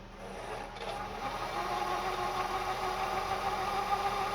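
A Kenmore 158.10500 sewing machine winds a bobbin at a slow, steady pace, its motor giving a close, continuous hum that settles into an even whir after a brief start.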